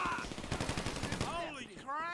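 Shotgun blasts from GTA Online fire in a rapid, loud burst of reports, followed by a ringing, whining tonal sound as the firing stops.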